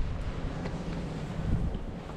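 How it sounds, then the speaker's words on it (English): Strong wind buffets the microphone during a snowstorm in Canada, producing a continuous low rumbling roar with gusty swells throughout. "it's too windy here and cold."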